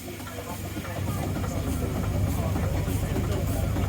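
A passing steam engine named Cornishman at a West of England steam rally parade, its steady low rumble and chuffing sustained and fairly loud throughout, with a voice speaking over it.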